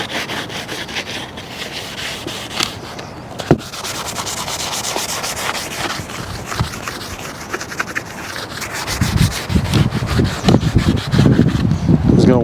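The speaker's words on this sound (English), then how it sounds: "We will wet sand the top of this tank to try to get off some of this" Wet sanding with the scrubby Scotch-Brite side of a sponge to remove rust from the top of a 1974 Honda CL450 fuel tank: steady close rubbing and scraping strokes, growing heavier and more rhythmic toward the end.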